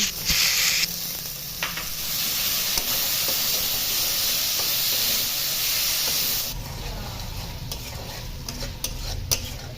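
Chopped tomato and salt sauté in a pan for a catla fish curry, hissing loudly with stirring scrapes before the sizzle abruptly drops to a quieter crackle with occasional spatula clicks.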